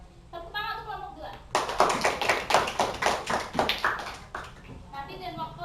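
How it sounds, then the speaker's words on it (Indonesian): A classroom of students breaks into brisk, rhythmic clapping for a group, the burst rising sharply after a voice, then stopping as speaking resumes. "Tepuk tangan untuk kelompok 2"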